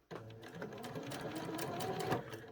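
A sewing machine stitches double-layered felt applique, running in a steady, continuous close whir with a rapid needle rhythm for the whole moment after a sudden start.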